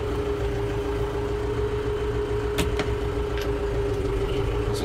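A tractor fitted with a front loader and bale spears idles steadily, a low, even engine drone with a constant hum and a couple of faint clicks, heard alone.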